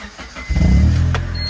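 A Honda Accord car engine cranks and starts, a short whirring starter followed by the engine catching and settling into a steady idle, close by, with no talk.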